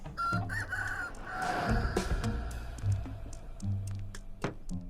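Chickens cluck and a rooster crows on board a train in the 4Ever Train video game, with short repeated calls scattered over steady background sound and no talk.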